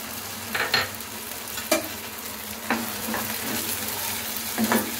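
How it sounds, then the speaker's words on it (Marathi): Spice paste sizzles in a hot pan as it is stirred, a steady close crackle broken by a few sharp clinks of the utensil against the pan. "चला तर आता ही पेस्ट टाकून देऊया।"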